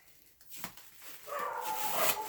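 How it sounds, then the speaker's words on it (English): Dogs bark indoors somewhere in a house, likely reacting to a delivery person, a few faint, distant yelps and whines building into a louder stretch of muffled barking, with no talking. "Oh, there's my doggies. Barking probably at some delivery person"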